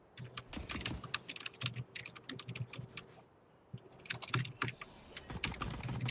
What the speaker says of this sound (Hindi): किसका कीबोर्ड का इतना साउंड है